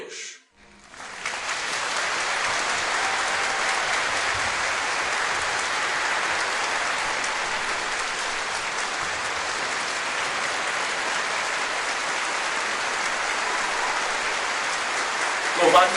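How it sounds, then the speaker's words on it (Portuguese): A church congregation claps together in a long, even, crowded burst of applause that starts abruptly and holds steady for over a dozen seconds, with faint voices mixed in. "Aplaudam ao Senhor todos os filhos de Deus."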